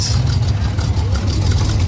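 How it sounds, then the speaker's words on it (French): A Chevrolet Corvette engine running nearby as a steady low rumble with a throaty, idling-like texture, outdoors in a town setting, loud and continuous under faint voices. "Encore une Corvette."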